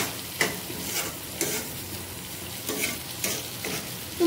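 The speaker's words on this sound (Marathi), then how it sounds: "जरा स्वरा इथे आमची फ्राय करते आहे कोळंबी" Prawns fry in a hot pan with a constant loud sizzle, while a spatula stirs them in regular scraping strokes roughly every half second to a second, close by with no voices.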